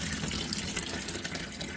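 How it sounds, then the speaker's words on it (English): Tap water runs steadily and close during a fine gold clean-up, a continuous broadband rush with no pauses and no talking. "Alright, so I've got the water on."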